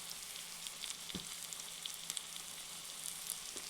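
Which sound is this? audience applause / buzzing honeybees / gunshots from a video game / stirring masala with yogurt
stirring masala with yogurt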